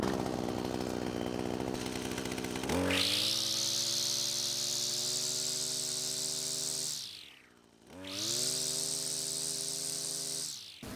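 A saw-toothed string trimmer blade used for cutting butterbur stalks runs with a steady, loud high whine, dropping briefly as it slows before spinning back up to full speed.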